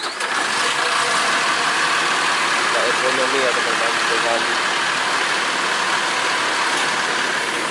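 An Intra Ekonomi bus engine idles at a bus wash in the morning, a steady loud mechanical drone with a ratcheting rattle running through the whole stretch while someone talks over it.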